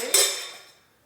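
A big spoon knocks once against a container while sugar is mixed into apples, a single bright clink that rings out and fades over about a second.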